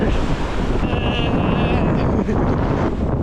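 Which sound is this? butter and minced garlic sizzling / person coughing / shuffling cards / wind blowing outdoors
wind blowing outdoors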